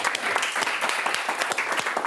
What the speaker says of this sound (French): Ok, bon, on l'applaudit.